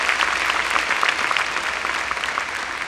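A church congregation claps steadily and densely for a few seconds. The dense patter holds even from start to finish.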